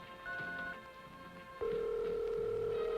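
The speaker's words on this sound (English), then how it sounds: "And that dial tone." Steady tone of a Bell System telephone dial tone, clear and continuous after a short lead-in of fainter tones, heard alone at low level.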